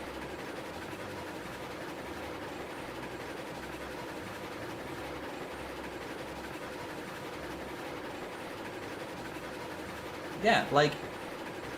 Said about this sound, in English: We got an upgraded train. This one has double the horsepower of what we used to have.